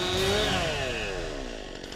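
Chainsaw revving during practice cutting, a loud high whine whose pitch slides down as the engine bogs, fading slightly over two seconds.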